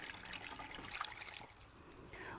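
Windshield washer fluid poured from a plastic Coca-Cola bottle into a car's reservoir, a soft steady trickle and gurgle, close but quiet, lasting a couple of seconds.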